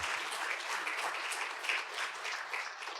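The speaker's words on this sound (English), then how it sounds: "That's worth an applause." Audience applause at a university's annual state-of-the-university address fills the room in a steady, dense wash of clapping that holds evenly from start to finish.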